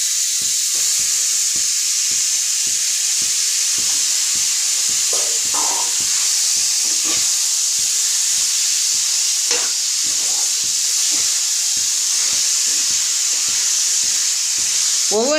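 Chicken fries for a chicken gravy in a pan, a loud constant sizzle broken by regular scraping stir strokes throughout.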